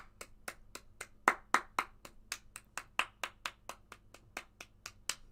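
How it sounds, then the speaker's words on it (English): A minute's applause for Jimmy Greaves at a Spurs v Chelsea Premier League football match, heard as a steady run of crisp, close hand claps, about three per second, with no talking. "a bit of a minutes clap here for Jimmy Greaves"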